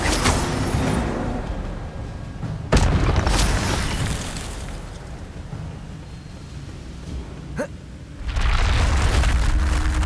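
A fire spell is cast in the Hogwarts Legacy video game, giving sharp booming bursts around 2.7 and 8.3 seconds over a loud, roaring, wind-like wash of ambient effects.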